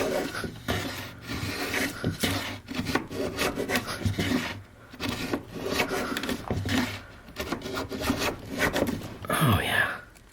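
Veritas bullnose plane shaving wood in a dado, with repeated rasping strokes in a steady rhythm, close and fairly loud, while a person talks over the cutting.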